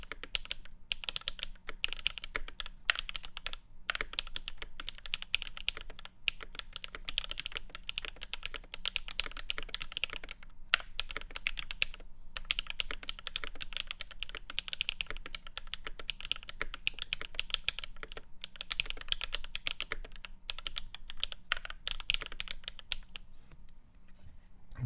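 Continuous fast typing on a mechanical keyboard, either a Keychron Q1 or a GMMK Pro with purple panda switches. The dense, clicky keystrokes are close and steady throughout, with no talking.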